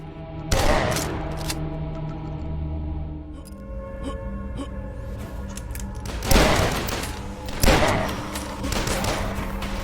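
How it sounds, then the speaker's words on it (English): Double-barreled super shotgun blasts in the retro first-person shooter Dusk, a few loud booming shots spaced several seconds apart over continuous game music and ambience. "there's also a double barreled super shotgun that's incredibly powerful at close range"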